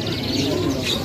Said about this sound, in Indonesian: ini burung pemakan buah ya?